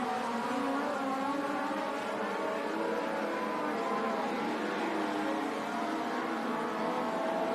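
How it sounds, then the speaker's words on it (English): Race cars in a dirt-track feature race during North Carolina Speedweek, a steady loud roar of several engines blending together at a distance for the whole stretch, with no talk over it. "Looks like he wants to get by that 10 machine and take his shot at Daniel Adam"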